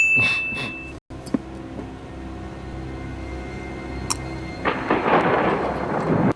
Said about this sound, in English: Dramatic thunder and lightning is dramatic.